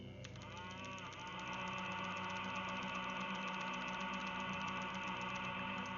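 A cow moos inside a video game dungeon, a long, drawn-out bovine drone sitting over a steady, buzzing tonal backdrop of game sound, fairly quiet and without talk.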